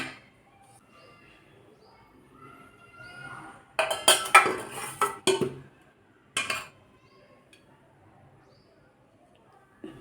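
A metal kadai is set down on a stove while oil is added, giving a cluster of sharp metallic clanks and clatters in the middle and one more brief clank shortly after, with quiet room tone around them.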